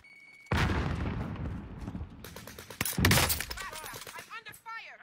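Video game gunfire in a fast team shooter match: a loud broadband burst of shots and blasts with sharp impacts, thick chaotic bursts around the middle, with people talking over the action throughout.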